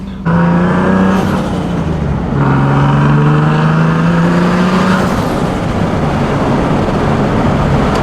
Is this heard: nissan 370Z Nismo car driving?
yes